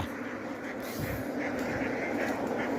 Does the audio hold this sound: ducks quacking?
yes